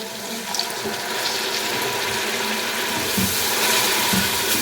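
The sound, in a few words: water poured into frying spices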